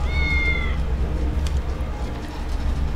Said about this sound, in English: but I'm sure that's a cat meowing.